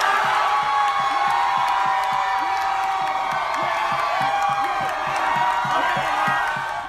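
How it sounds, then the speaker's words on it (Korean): A large crowd outside the Capitol at night cheers and claps steadily, with a rhythmic beat running through it and occasional whoops and shouts rising over the continuous din. "이런 박수 소리 등등이 끊이지 않고 나중에 사람들은 함성을 지릅니다."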